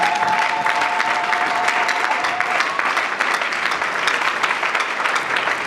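A church congregation claps steadily, a dense and loud wash of applause filling the whole stretch with a faint crowd murmur beneath.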